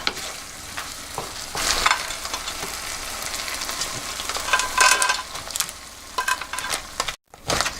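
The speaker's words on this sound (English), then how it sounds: "you have your thick sauce to stir fry your crab" Crab being stir-fried in a thick tamarind sauce, with bubbling sizzle and repeated spatula scrapes against the pan, close and busy, stopping abruptly near the end.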